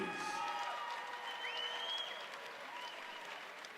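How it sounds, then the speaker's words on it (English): A crowd applauds MMA fighters at Jacksonville Veterans Memorial Arena in Florida, a steady, moderately distant wash of clapping with a few whistles and shouts rising through it, not very loud, tapering slightly toward the end. "how about a nice round of applause for both fighters, please?"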